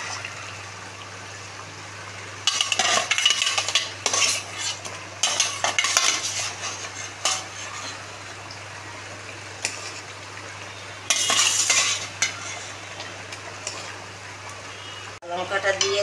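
Bhetki (barramundi) fish curry being stirred in a pan of spiced oil and water, with scraping utensil bursts and a low simmering sizzle, under intermittent talk in a home kitchen.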